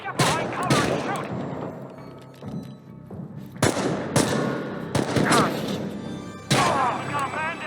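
Loud gunshots crack out in a firefight in the video game Chernobylite, a few sharp heavy blasts spaced apart amid shouting voices and combat clatter.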